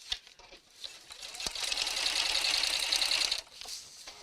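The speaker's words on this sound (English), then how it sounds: "just sew a few stitches at a time" A sewing machine runs in one steady burst of about two seconds, stitching the seam of a simple fabric evening bag. The whirring is close and fairly loud, with a couple of quiet clicks before it starts and after it stops.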